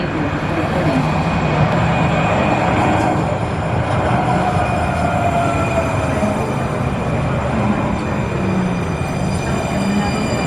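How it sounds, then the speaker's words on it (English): Valley Metro light rail train in Phoenix rumbles along steadily from inside the car, a broad continuous roar with faint high whine, constant and close throughout. "Perhaps the best thing I've discovered about Valley Metro Light Rail."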